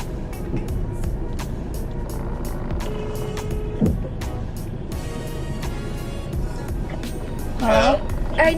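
A car is parked on a residential street, its low engine rumble steady and close, with road noise around it and a brief high whine near the end.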